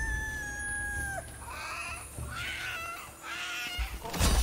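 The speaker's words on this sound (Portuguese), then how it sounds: "Ó o galo doido, ó o galo doido" A crazy rooster in the video game Tribes of Midgard lets out squawking, crowing calls in several bursts over a steady hum of game music and effects.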